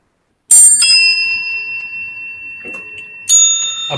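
Synthesized bells with random values from Sonic Pi ring out as two clear metallic strikes, the first with a long shimmering decay and the second arriving near the end, alone against silence.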